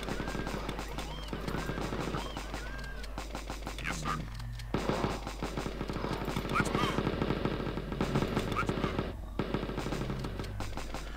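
Automated turrets in the zombie shooter Zombie Defence rattle off rapid bursts of gunfire at advancing zombies, the dense crackling shots fairly quiet and continuous throughout, with a voice murmuring underneath.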